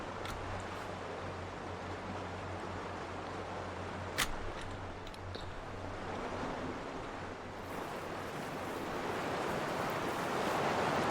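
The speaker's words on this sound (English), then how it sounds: "Big sounds of water." Rushing water in the video game Heaven's Vault, a steady broad wash like surf or a cascade with a low hum beneath, holding loud throughout and swelling slightly toward the end.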